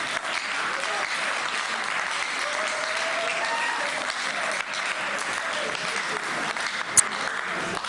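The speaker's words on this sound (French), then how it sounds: "est-ce qu'on peut applaudir" An audience claps steadily through a public debate in a Christian gathering, continuous and moderately distant, with one sharp knock near the end.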